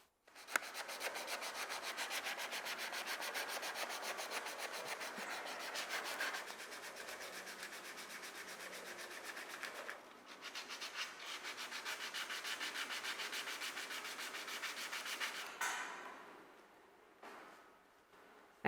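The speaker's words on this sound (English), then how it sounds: "I take them through all of these levels of sandpaper to take the surface from something like this that still has some roughness to it" Calcium stone being hand-sanded with sandpaper, a close, steady rhythmic rasping of quick strokes that continues almost unbroken, pausing briefly once and fading out at the end.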